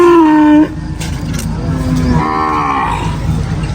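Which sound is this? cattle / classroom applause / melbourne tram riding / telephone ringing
cattle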